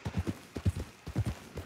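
Rhythmic horse hooves in Red Dead Redemption 2 clip-clop at a steady walking pace, soft and close, in repeated pairs of thuddy knocks with no talking.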